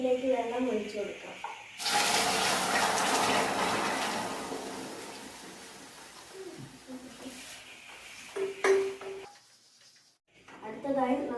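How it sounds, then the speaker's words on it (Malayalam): Water poured into a pan of caramelised sugar gives a sudden loud hissing, bubbling rush that slowly fades over several seconds, with a voice speaking before and after it. "ഇനി ഇതിലേക്ക് വെള്ളം ഒഴിച്ചു കൊടുക്കാം"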